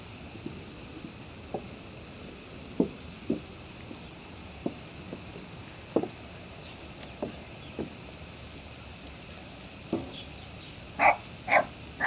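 Scattered short, sharp dog barks, fairly faint and irregular, with a few louder yelping bursts clustered near the end.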